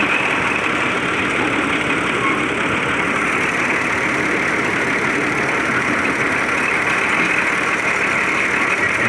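A tractor engine rumbles steadily at close range without pause, an even mechanical drone holding at constant loudness throughout.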